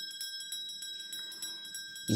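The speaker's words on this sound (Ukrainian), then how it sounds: "дзвоники." Small metal bells ringing in a children's music activity about metal sounds, a steady shimmering tinkle of repeated high strikes with a sharper bump at the very end.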